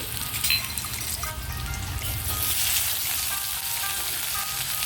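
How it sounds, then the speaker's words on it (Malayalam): Chopped ginger and garlic mix dropped into hot oil over a high flame, giving a steady, bright crackling sizzle that holds evenly from start to finish, close and alone. "നന്നായി ഫ്ലെയിം കൂട്ടി വെച്ചിട്ട് കൊടുത്ത് അതിലേക്ക് നമ്മൾ അരിഞ്ഞെടുത്ത ജിഞ്ചറും ഗാർലിക്കും കൂടിയുള്ള മിക്സ് ഇട്ട് കൊടുക്കുകയാണ്"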